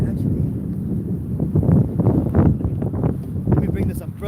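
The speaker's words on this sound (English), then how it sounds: "Only problem is that it's windy as hell" Strong gusty wind buffets the microphone outdoors in rainy weather, a low roaring rumble that swells and fades in waves, with someone talking through it.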